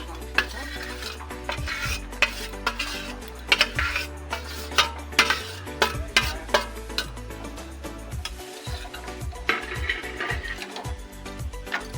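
Vegetables and chicken are stirred into a wet momo filling in a pan, with busy, loud scraping and clattering of a spoon against metal over a constant sizzle and a low background hum.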